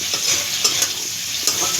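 Prawns and potato pieces fry together in hot oil for a Bengali prawn curry, a steady close sizzle with a few brief stirring scrapes, no talk.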